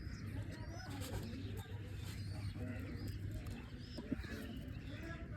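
Pigeons kept by a breeder give soft, low cooing close by, with continuous murmuring calls under someone talking throughout.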